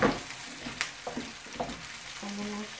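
Onion frying in a pan for beef stew, with a steady low sizzle and a few scattered stirring clinks and taps, fairly close, with no talk over it.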